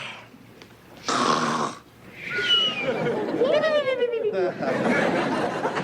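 People imitate snoring with their voices, exaggerated snorts and wheezing drawn-out breaths in a domestic comedy scene, interspersed with bursts of chatter and laughter, close and fairly loud.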